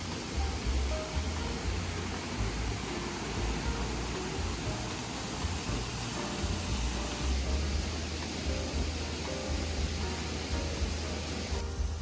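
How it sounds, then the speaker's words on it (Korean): Artificial waterfall in a park built on a former quarry in Gwangmyeong, a steady broadband rush of falling water that continues unbroken and moderately loud throughout. "이곳은 채석장으로 쓰였던 곳을 공원과 인공폭포로 조성했다고 합니다."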